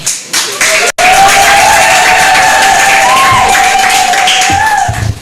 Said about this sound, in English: may you clap or ululate for them